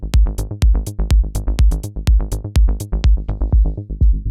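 An electronic music loop plays through a mid-side mastering chain in Ableton Live, punchy kick-driven hits in a steady rapid rhythm with bright percussive transients, loud and alone without talk.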